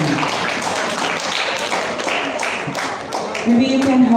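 Students clap for a participant at a school storytelling event, a scattered, uneven patter of hand claps close by with voices talking over it.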